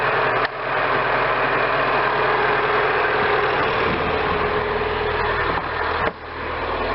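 Renault Clio 1.2 Dynamique engine (2001-2005) idling right after being refitted, gearbox still unfilled, giving a steady, close, loud hum that runs unbroken the whole time.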